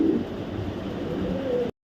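A male racing pigeon coos steadily and close by for nearly two seconds, its low throaty murmur holding over a soft background hum before a brief cutoff at the end.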